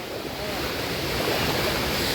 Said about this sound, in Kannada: ನೋಡಿ ಫಾಲ್ಸ್